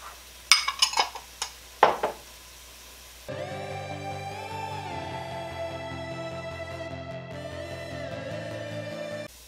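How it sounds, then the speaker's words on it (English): A few sharp clinks of a utensil against a potato soup pot as flour and spices are stirred in, then a sustained tonal hum with shifting pitches takes over for the rest. "again stir it all up until it's well combined"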